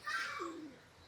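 A single bird call, close and clear, begins with a high bright note that glides down into a lower, pigeon-like sliding coo, then fades into quiet.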